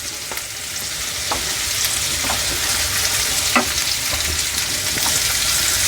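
Green chilies fry in a pan with loud, steady sizzling and crackling throughout, while a few faint stirring scrapes sound close by and no one speaks.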